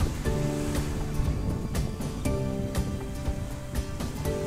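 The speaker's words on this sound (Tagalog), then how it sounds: "ganito talaga, malakas yung alon" Strong December ocean waves surge and wash against the shore, a constant roaring surf with repeated crashing bursts, heard up close alongside wind and a low droning engine-like tone.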